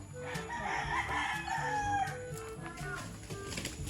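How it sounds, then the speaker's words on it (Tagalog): A rooster crows from a fighting cock in a rural yard, heard at moderate distance amid clucking and background farm sounds, with no talk. "Kaninong manok ayun?"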